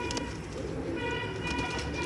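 A pigeon coos softly and repeatedly amid the steady background bustle of a pigeon market in Multan.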